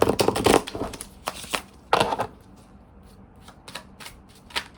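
Tarot or oracle cards being shuffled by hand, a run of riffling, slapping bursts with short pauses between them, close and fairly loud, with no talking.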